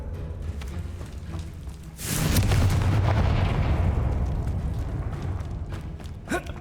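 Confringo fire spell blast in Hogwarts Legacy: a sudden broadband explosion bursts in around two seconds, then a sustained crackling, rumbling roar that slowly fades, with a short sharp burst near the end.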